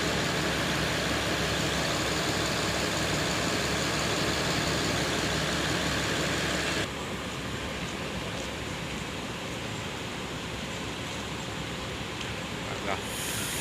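A Volvo B11R intercity bus on the Pekanbaru–Medan route rumbles as it pulls away, a steady low engine drone that lightens partway through, with some background voices nearby.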